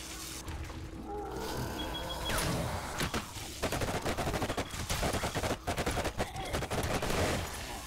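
Rapid gunshots ring out in the survival game 7 Days to Die, dense repeated bursts of automatic fire rattling close and loud over the second half, following a rumbling background.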